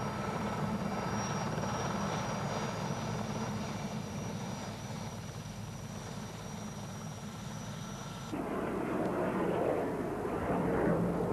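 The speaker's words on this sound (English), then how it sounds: "the Puma, medium-sized helicopter, is just taxiing out ready for his display" A Puma medium-sized helicopter taxis out before its display at the 1993 Biggin Hill airshow, its engine and rotor making a steady, continuous roar that grows slightly louder near the end.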